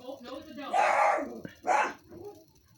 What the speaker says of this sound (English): He's barking at a cat.